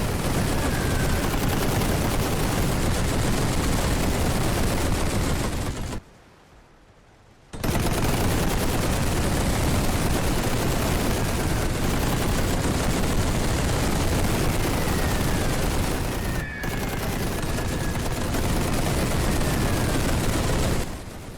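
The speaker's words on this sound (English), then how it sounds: "the machine gun just took down that. Keep firing." Sustained, dense gunfire and battle din from the World War I strategy game The Great War, machine guns rattling continuously and loudly, broken by a brief silent gap midway before the barrage resumes.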